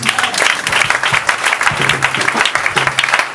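A church congregation breaks into dense, sustained applause during worship, steady clapping filling the space with a low hum of voices and instruments underneath.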